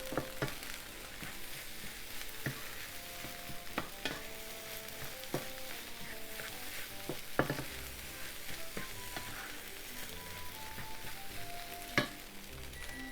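Rice is stir-fried in a hot pan after soy sauce is poured in and left to toast, for a dried shrimp and garlic chive fried rice. Steady sizzling runs throughout, with spatula scrapes and clinks against the pan, close and continuous.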